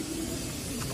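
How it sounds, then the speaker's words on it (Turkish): Pigeons coo at a large pigeon facility, a low steady murmur of overlapping coos from many birds, continuous and moderately faint throughout the second. "Türkiye'nin en büyük güvercin tesisindeyiz."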